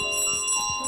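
Bell carried by a character in Untitled Goose Game rings in a bright, sustained metallic tone with a couple of quick repeated strikes, loud and close, no voices.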